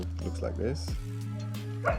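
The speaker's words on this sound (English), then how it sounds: "Excuse the dogs." Dogs bark and yip in a short burst at the start, close by, then quieter whimpering continues under a person's speech indoors during a toy unboxing.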